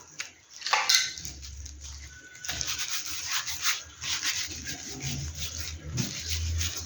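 A cookie cutter presses and twists through pet biscuit dough on a work surface, giving soft intermittent rubbing and scraping close by, with no talking.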